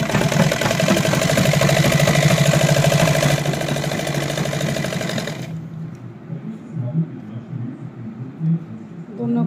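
A sewing machine stitching two layers of fabric and foam for a salwar, a loud fast mechanical whirr that runs steadily for about five seconds, then stops, leaving faint handling noises.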